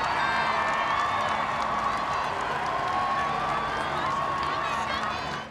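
Crowd cheering for the Queen outside Buckingham Palace, a dense, sustained roar of many voices with whoops and scattered clapping that carries on steadily throughout before easing off at the end.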